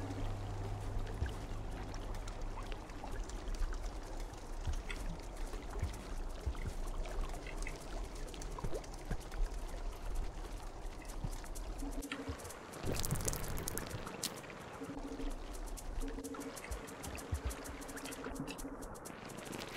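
Water rushing and pouring steadily in the video game Rain World, a continuous close wash of flow with a brief louder splash midway and low tonal game sounds underneath.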